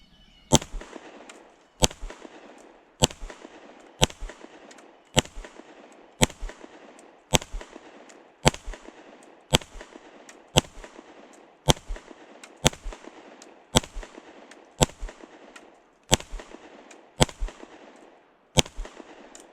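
A Fusion Firearms XP PRO 2011 pistol in 9mm fires S&B FMJ rounds in a long, steady string of sharp, loud reports about one per second, each followed by a short echoing tail, with no talking.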